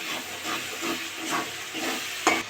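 Ground tomato and chickpea paste hits hot oil in a pan, giving a quiet, steady sizzle and hiss with a few soft stirring scrapes and a brief sharper spatter near the end.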